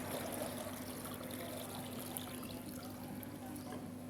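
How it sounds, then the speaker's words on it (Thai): Water pours steadily into a jar of eggs for making salted eggs, with liquor already added, as a faint, even trickle with no voices. "ใส่น้ำลงไปเลยค่ะ"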